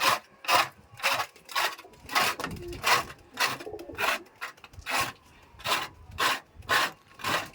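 A scraper rasps rhythmically, about a dozen strokes over the wooden surface of a pigeon coop, close and steady.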